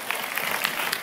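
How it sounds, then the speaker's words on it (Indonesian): An audience claps together in a steady, dense patter of applause at a religious talk, moderately loud and alone for about a second. "tepuk tangan buat Mbak Ribut Lestari."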